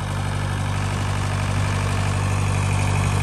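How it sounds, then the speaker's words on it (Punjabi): A large generator engine runs steadily on a farm to power a water pump motor, a constant low droning hum with even vibration and no break. "ਮੋਟਰ 'ਤੇ ਪਾਣੀ ਚਾਹੀਦਾ ਜੀ ਜਨਰੇਟਰ ਲੱਗਿਆ ਤਾਂ ਕਰਕੇ"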